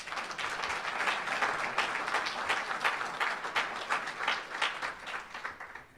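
Sustained applause from an audience at an athletic hall of fame induction ceremony, many hands clapping steadily before fading out at the end.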